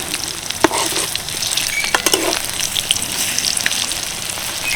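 Cabbage pieces frying in a pan fill the space with a steady, dense sizzle, loud and close, with a few sharper crackles and a utensil tap or two as the pieces are turned; nobody talks.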